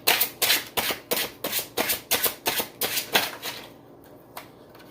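A deck of tarot cards is shuffled in a rapid series of about a dozen crisp riffling bursts, each a short papery flutter, close and fairly loud, before it stops and leaves near silence.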